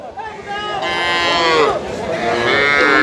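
A young bull calf, around six to seven months old, moos loudly and close up at a cattle market. It gives a long, drawn-out call that carries through most of the three seconds, with crowd noise low underneath.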